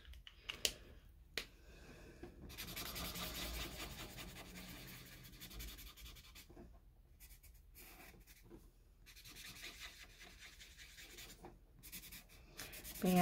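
Soft scratchy rubbing of a colorless blender marker on paper while coloring a pin-up drawing, quiet and close, with irregular strokes and short pauses.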